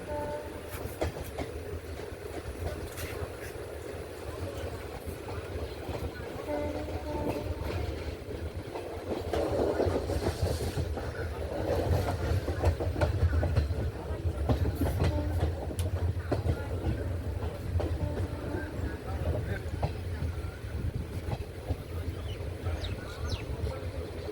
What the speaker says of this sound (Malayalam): അങ്ങനെ രാജപാളയം റെയിൽവേ സ്റ്റേഷനിൽ നിന്നും ട്രെയിൻ എടുക്കുകയാണ്.